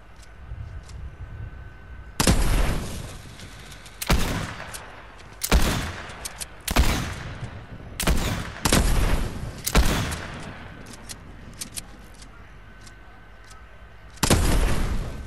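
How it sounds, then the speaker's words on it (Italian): Gunfire in the video game Fortnite: loud, sharp bursts of shots arrive in separate clusters over a steady background, some spaced a second or two apart and others in quick succession, with a long gap before a final burst. "Si sparano, eh?"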